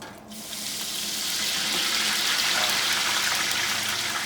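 Crappie fish frying in hot grease in a basket fryer for Southern cooking, a steady, loud hissing sizzle that swells slightly after a quiet start and holds evenly with no talking.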